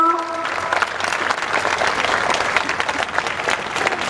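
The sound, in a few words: audience applause welcoming a guest speaker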